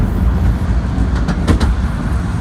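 Steam train on the Romney Hythe and Dymchurch Railway running at speed, a loud, steady low rumble with rhythmic rattling and a few brief chuffing bursts near the middle.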